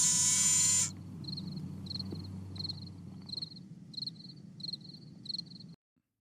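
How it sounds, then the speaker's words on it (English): Fake cricket chirping sound effect: a short loud burst of other noise opens, then evenly spaced electronic chirps repeat over a low hum before cutting off abruptly. "Fake cricket sound effects."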